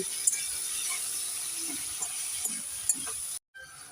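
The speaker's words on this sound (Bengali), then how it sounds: "এবার আমি দিয়ে দেব কেটে রাখা সর্ষে শাক একটু নেড়ে চেড়ে দিয়ে দেব" Chopped mustard greens hit a pan of frying onion and garlic, giving a soft steady sizzle with light scraping stirs and small clicks, fairly quiet, ending in a brief cut near the end.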